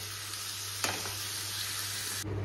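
Ash gourd with green chillies, salt and turmeric frying in oil, a steady close sizzle with a scrape of stirring partway through and a low hum underneath, no talking.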